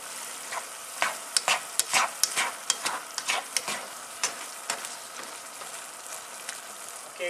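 Minced meat and vegetables simmering in gravy in a pan for a homemade shepherd's pie, with faint steady bubbling and a run of close, crisp stirring scrapes and clicks that thin out toward the end.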